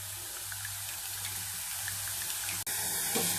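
Boondi batter sizzles and bubbles in hot oil, a steady, dense, hissing crackle that runs the whole time, briefly cutting out for an instant near the end before resuming, with no talking.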